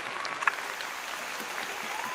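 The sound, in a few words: audience applause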